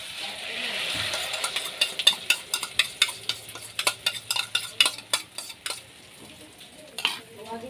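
Eggs stirred in a pan, a quick rhythmic run of utensil taps and scrapes against metal over a faint sizzle, close by.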